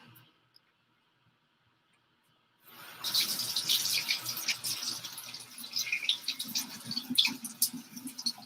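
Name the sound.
washing hands under a running water tap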